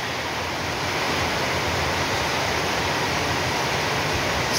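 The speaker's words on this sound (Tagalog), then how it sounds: "Ang lakas ng hangin." A strong, steady typhoon wind in Bulacan, Philippines roars without pause, a dense broadband rush like surf that holds loud for the whole stretch.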